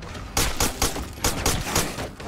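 Gunfire in the video game State of Decay: five or six loud, sharp shots fired at a steady, evenly spaced rhythm, close and clear.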